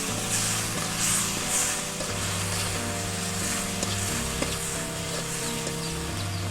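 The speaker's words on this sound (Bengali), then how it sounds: "আমরা এগুলোকে এখন ভালোভাবে নেড়েচেড়ে নিব।" Salted masala for a tilapia fish curry being stirred and fried in a pan, a steady sizzle under a constant low hum, with occasional soft scrapes of the spoon.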